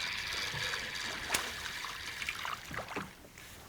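A topwater lure skitters and splashes across the surface over weed beds while fishing for barramundi in an impoundment. The faint, irregular splashes are heard at a distance over a steady watery wash, with no talking.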